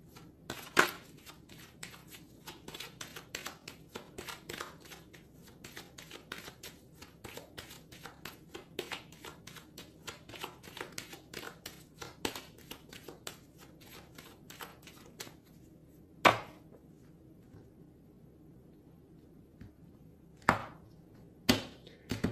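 Tarot cards being cut and shuffled by hand, with rapid crisp riffling flicks for about fifteen seconds, then a few isolated louder slaps as the deck is squared and set down.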